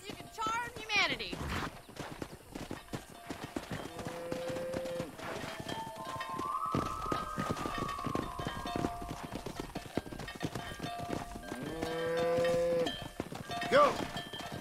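Cattle are herded on horseback in the Red Dead Redemption video game: horse hooves clip-clop steadily while cattle low in drawn-out moos, with people talking and shouting over the herd.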